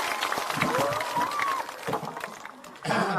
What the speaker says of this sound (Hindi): एक बार जोरदार ताली बजाइए आदरणीय प्रधान जी के लिए।